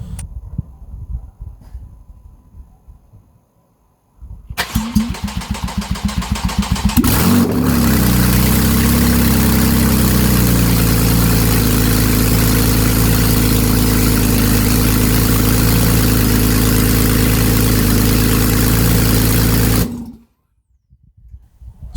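A Porsche 911 Carrera GTS 991.1 3.8-litre flat-six cranks briefly on its first start after an engine swap, then fires up loudly and settles into a steady, rumbling idle before shutting off abruptly.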